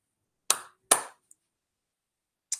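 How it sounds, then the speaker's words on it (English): Two sharp, loud claps ring out in a school gathering, each decaying with a brief echo, followed by silence, a tiny click and one more faint clap-like snap at the end. "How about 2 claps, everyone, for Miss Elston and Miss Davis."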